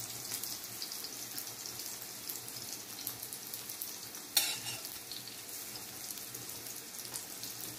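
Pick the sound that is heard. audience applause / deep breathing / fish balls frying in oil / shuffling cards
fish balls frying in oil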